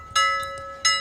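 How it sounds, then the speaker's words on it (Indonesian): Doorbell sound effect rings out twice in quick succession, each a bright, bell-like chime with a ringing tone, loud and close with nothing else around it. "Suara bel pintu kembali terdengar."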